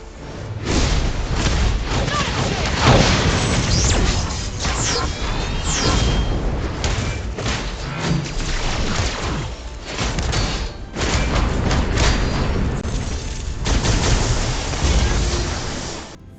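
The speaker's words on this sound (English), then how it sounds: "Then just to finish it off with a bang, I do the Photon Flight higher." Captain Marvel's Photon Flight skill in Marvel Future Revolution, a loud, sustained burst of heavy thumps, booms and energy blasts layered over game music and effects, continuous with brief dips, near and intense.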